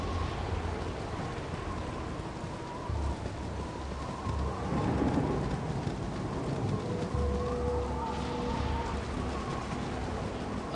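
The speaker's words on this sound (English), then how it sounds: "It's raining." Continuous hiss of rain with low rumbling thunder rolling underneath in the video game Baldur's Gate, a steady, enveloping wash of sound with no voices.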